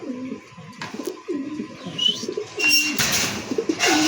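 Racing pigeons, including a white racer pair, coo repeatedly inside a breeding cage, with soft throaty calls close by, a few chirps, and rustling toward the end.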